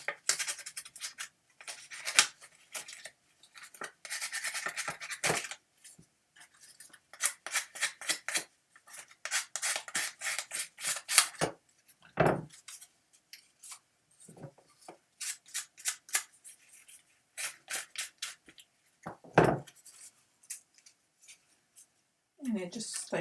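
Quick rasping strokes come in repeated bursts as a distressor tool scrapes along the paper edges of a clipboard, a dry, close scratching with short pauses between passes.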